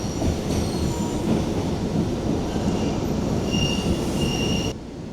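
Boston subway train rolling on rails, with a loud continuous rumble and high metallic wheel squeals rising and fading over it, then the noise drops abruptly near the end.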